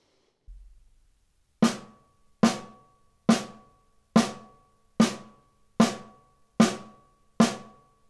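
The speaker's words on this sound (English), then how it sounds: "And single stroke roll sounds like this." A drum single stroke roll: eight evenly spaced strokes at a slow, steady pace, each a crisp hit with a short ringing decay, played alone.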